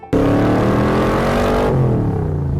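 A car engine revs hard and close after a sudden start, a loud rising roar with shifting pitch that drops back toward the end.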